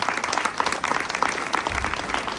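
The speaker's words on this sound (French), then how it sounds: "applaudissez-le, vous aurez l'occasion d'applaudir encore tout à l'heure." An audience at an autumn arts exhibition opening in Fronton applauds the sculptor Sylvain Croisy, a dense, steady patter of many hands clapping together, fairly close and without pause.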